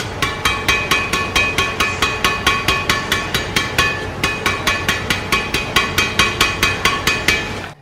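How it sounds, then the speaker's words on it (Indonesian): Badminton racket strung with Velet Ultramax Turbo 66 at 27 lbs mains and 29 lbs crosses, struck in a fast, steady series of sharp, ringing pings, close and crisp with no talking. "Nah seperti ini bunyi senarnya."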